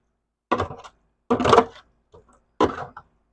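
Chuck roast burnt ends are stirred in a pan for a drum smoker cook, giving three separate close, scraping clunks with short quiet gaps between them.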